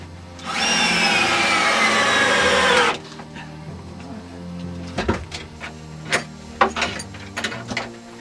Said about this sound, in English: a 3/8 inch hole is drilled through the 2 layers of bracing